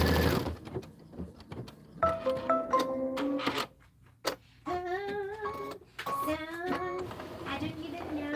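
Embroidery sewing machine stitching a clover leaf design, its motor buzzing in rising and falling tones with rapid steady needle pulses, close up, pausing briefly midway.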